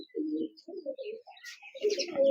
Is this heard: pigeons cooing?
yes